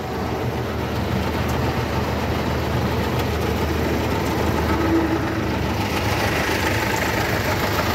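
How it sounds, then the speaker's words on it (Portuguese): A 1979 Mercedes-Benz 1313 truck engine runs at a steady, loud idle, a continuous low rumble with no talking over it. "Olha o barulho, olha o chinido do motor."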